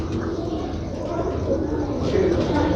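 Fast-flying striped pigeons coo steadily and close by, a continuous low burbling that carries through the whole stretch with faint background murmur.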